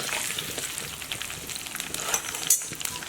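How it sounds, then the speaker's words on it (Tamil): Cumin seeds and black pepper spluttering in hot oil for a kadai chicken, a close, dense crackle of tiny pops with a brief louder burst near the end, no voices. "அப்புறம் மிளகு வந்து கொஞ்சமாக. இது நல்லா பொரிஞ்சு வர்றப்ப"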